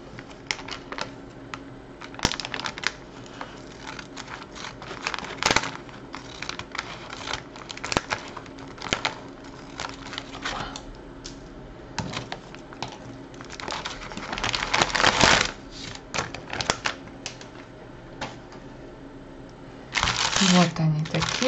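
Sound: opening a packet of Fes Aroma 3-in-1 caramel coffee drink

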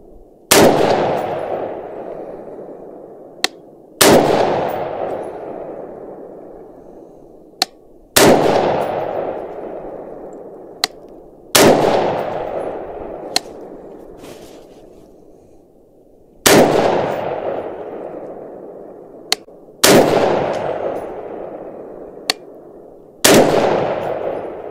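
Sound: gunshots fired at range targets

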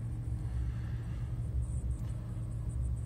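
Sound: car engine pulling away from a traffic light

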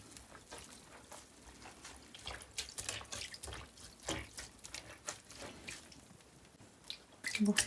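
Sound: water being added to a basin for hand-washing knitwear

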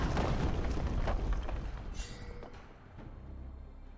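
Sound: inhibitor explosion in the video game League of Legends

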